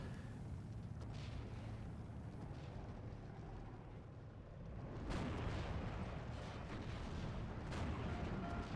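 Mortar rounds thump and rumble in the strategy game Steel Division 2, a dense low barrage that swells with a sharper burst midway and more distant booms rolling on after.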